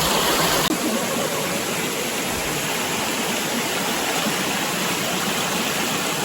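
Loud, steady rushing of a waterfall, a constant roar with no pauses and nobody speaking.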